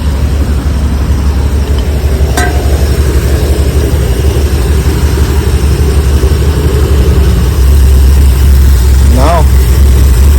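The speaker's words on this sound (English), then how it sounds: "Let's see if I put it in gear if it dies." A 1984 Ford E350 van engine idles steadily in gear, a loud continuous low rumble close by that holds through the whole stretch with brief high squeaks over it.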